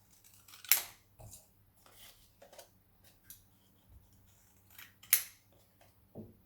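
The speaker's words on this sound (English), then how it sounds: "Cut the strips." Scissors snip paper strips in a quiet room, two sharp, close blade clicks standing out among several softer cuts and paper rustles, with no one talking.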